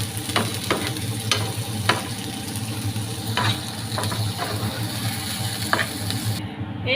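Chopped shrimp and noodles frying together in a pan, a continuous close sizzle with regular sharp scraping clacks from stirring.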